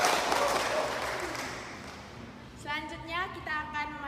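Applause from the audience at a school short-film event fades out over the first couple of seconds, then a person begins speaking clearly into a microphone.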